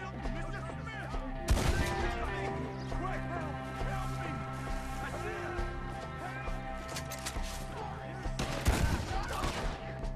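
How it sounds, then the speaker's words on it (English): Shotgun blasts in the video game Red Dead Redemption 2, two loud, sharp booms a few seconds apart over a dense bed of game music and ambient noise, with voices talking in between. "That's a shotgun."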